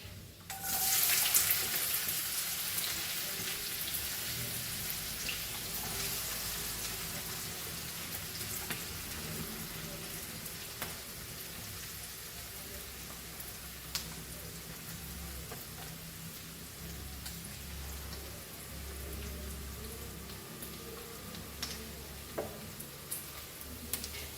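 Onions frying in a pan for Goan pork sorpotel, a faint steady sizzle with a few soft scraping and stirring knocks, heard alone throughout.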